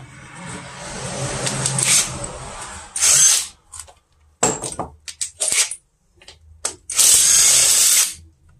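A power tool with a 10 mm socket spins out a bolt while a Shineray Thor 200 motorcycle engine is taken apart. Loud, close whirring bursts stop and start, with sharp metal clinks and taps between them.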